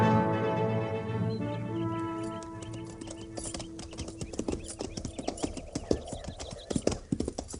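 Cavalry horses' hooves clip-clopping in an old radio drama set on the frontier, a steady rhythmic patter of several horses walking that rises in the second half over sustained background music, with no talking.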